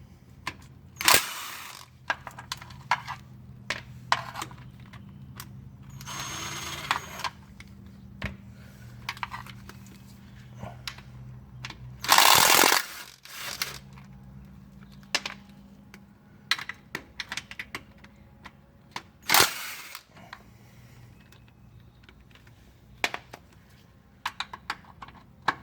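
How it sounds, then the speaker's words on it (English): A 13 mm ratchet clicks steadily as bolts come off an automatic transmission pan, with quiet rapid ratcheting and a few sharper metallic clanks and knocks at close range. "Use your 13 millimeter and remove your transmission pan bolts."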